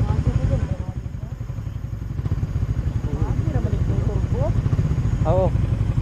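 Motorcycle engines idle and run close by with a loud, steady chugging pulse, and voices and shouts come through over the rumble.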